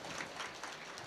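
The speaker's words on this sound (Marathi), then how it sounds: "त्यांच्याकरता सुद्धा टाळ्या वाजवा." Audience clapping at a devotional kirtan gathering in Khurgaon, broad steady applause filling the short moment, fairly distant and even with no talk over it.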